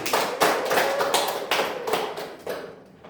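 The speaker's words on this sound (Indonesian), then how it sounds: "Oh, beri aplaus Mbak Resti." Students in a classroom give a short round of applause, a few separate claps beating in an uneven rhythm that fade after about three seconds.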